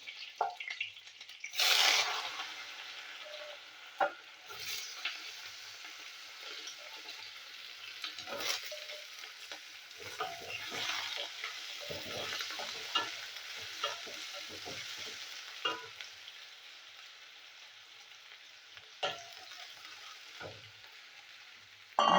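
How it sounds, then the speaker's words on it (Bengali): Potatoes frying in white vegetable oil with cumin seeds, bay leaf and green chilli give a quiet, steady sizzle broken by intermittent scraping and clinking from stirring. "এবার আলুগুলো আমি ভেজে নেবো"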